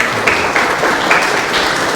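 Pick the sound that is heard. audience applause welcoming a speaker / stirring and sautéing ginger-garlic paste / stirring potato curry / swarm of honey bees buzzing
audience applause welcoming a speaker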